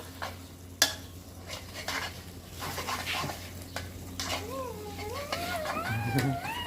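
Eggs are scrambled and stirred in a pan: scraping spatula strokes and a light sizzle up close, with voices and a high, warbling vocal sound near the end.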